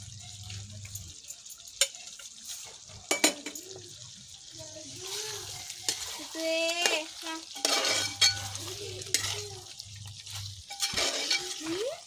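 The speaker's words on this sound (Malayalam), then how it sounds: "ഇനി നമുക്ക് ഇതിലേക്ക് കുറച്ച് മല്ലിയരി ഇട്ടിട്ട് പാത്രത്തിലേക്ക് മാറ്റാം മിക്സ് ചെയ്തിട്ട്" Chicken curry with coriander is stirred in a cooking pot, with repeated scraping and clinking of a utensil against the pot in short bursts, alongside a low background hum.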